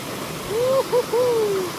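A mountain river about 3,000 feet up in Costa Rica makes a steady rushing wash, while a voice whoops a loud, wavering hoot close over it.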